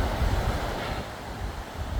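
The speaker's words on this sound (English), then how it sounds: "Windy. It's windy." Strong wind roars across the Mount Washington summit, buffeting the microphone in a steady loud rush with gusty swells and no talk.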